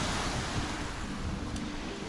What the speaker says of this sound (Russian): вон там море плескается